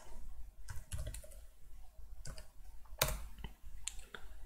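Someone types "localhost" on a computer keyboard during a Python web application tutorial. The keys give quick, irregular clicks and taps in short bursts, quiet and close by, with no voices.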